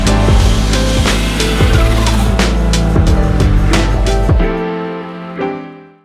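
A fully built 560 hp turbocharged Scion FR-S driving hard, its loud engine note rising and falling through shifts with tyre squeal layered over it, then fading out near the end.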